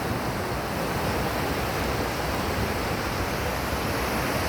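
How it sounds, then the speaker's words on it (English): Steady roar of ocean waves washing onto a beach, a dense continuous wash of surf with no pauses, loud and close, with no voices. "I'm here on this glorious beach in Elitom."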